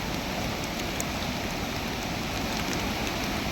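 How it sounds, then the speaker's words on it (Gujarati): Heavy monsoon rain pours steadily near a flooded river in the Ratan Mahal area, a dense, loud, unbroken hiss filling the whole moment with no voices. "વરસાદ ચાલુ છે"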